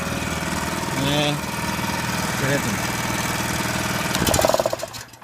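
A small engine on a gorse-mulching machine, running after the choke was switched off. It idles with a steady knocking hum and then revs up and dies away, with brief voices over it.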